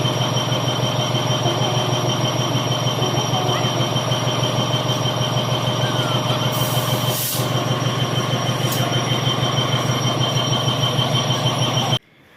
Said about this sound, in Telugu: మా ట్రైన్ అయితే వచ్చేసింది